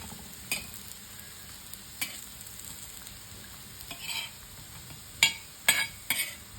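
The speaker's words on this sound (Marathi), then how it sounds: "आपल्या या शॅलो फ्राय होऊन जातील" Vadis shallow fry in a pan over very low gas with a quiet, even sizzle. Several sharp spatula taps and scrapes come in bursts toward the end as they are turned.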